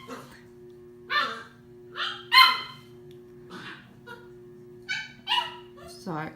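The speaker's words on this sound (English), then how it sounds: "my puppy is barking" A puppy yips and barks in short, high bursts, several times with pauses between, close by over a faint steady hum.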